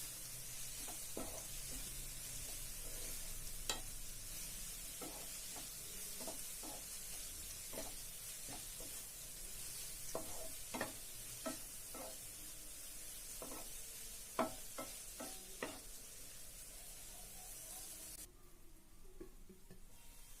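Bitter gourd with dried red chillies fries on a low flame, a steady soft sizzle broken by repeated sharp clicks of a spatula stirring against the pan; no one speaks.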